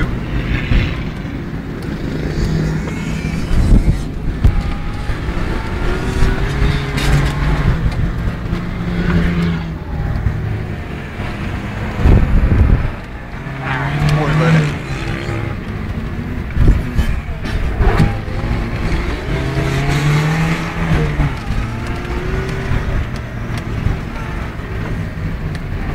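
Daihatsu Feroza off-road car running on a motocross track at a diesel club meet, its engine droning and revving in repeated surges throughout, loud and fairly close, with no talk.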